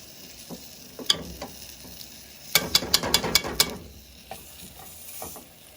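Sauce cooking in a pan and being stirred, with a burst of rapid scraping clatter in the middle between quieter sizzling and a few isolated knocks.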